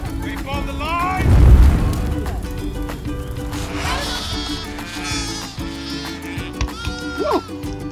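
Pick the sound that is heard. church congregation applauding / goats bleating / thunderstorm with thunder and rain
goats bleating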